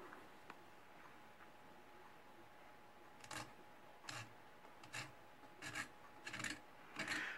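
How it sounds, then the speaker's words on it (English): A carbide scraper rasps along the seams of plastic replica whitetail deer antlers; about six short scraping strokes come close together in an uneven rhythm after a quiet opening, with no talking. "the one option I like is to use my carbide scrapers. And these are great at taking down seams"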